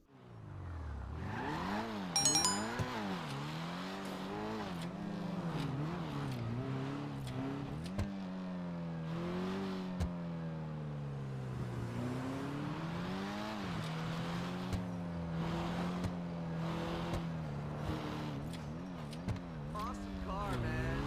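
A car engine revs and shifts through gears while driving in GTA 5, rising and falling pitch sweeps at steady moderate loudness across the whole stretch.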